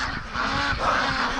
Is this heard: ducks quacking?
yes